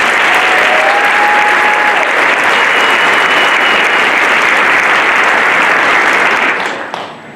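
Crowd at the Saranac Lake Winter Carnival coronation giving a long, loud round of applause, dense and sustained for several seconds before tapering off sharply at the end, with a faint whistle early on.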